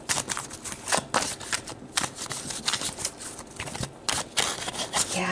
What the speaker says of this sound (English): So let's pull some more cards to see what's going on.